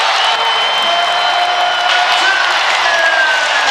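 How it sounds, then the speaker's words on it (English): Basketball arena crowd roaring during a Golden State Warriors game against the Suns, a loud sustained wash of cheering that swells without break, close and dense. "And in a blink, the crowd comes alive."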